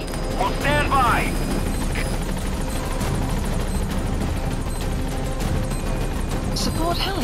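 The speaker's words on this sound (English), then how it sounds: "Support helicopter has arrived." A support helicopter arrives in the video game Metal Gear Solid V: The Phantom Pain. A loud, steady rotor rumble fills the whole stretch, with a brief voice-like sound near the start.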